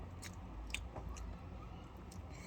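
Bakery bread with sausage being chewed, soft crunchy bites and moist mouth sounds repeating close up over a constant low background hum, with no talking.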